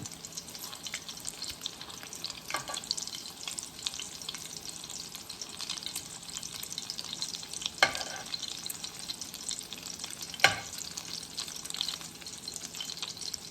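Shrimp and beef egg foo young frying in a pan over medium-low heat makes a soft, steady sizzle with a few louder crackles and spatters, and no one talks.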